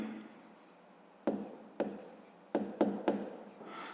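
A pen writing by hand on paper during a fifth-grade maths exercise, steady close scratching broken into several short strokes with brief pauses, no one speaking.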